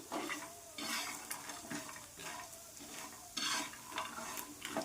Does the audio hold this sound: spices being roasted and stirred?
yes